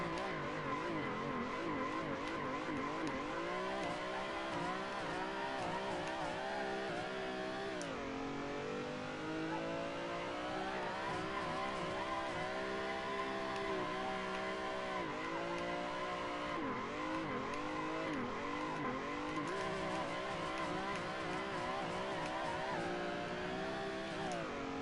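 Car engine in a drifting simulator video game, held against the rev limiter at about 75 km/h, a steady buzzing drone with harmonics that dip and recover as revs briefly fall, alongside faint tire squeal.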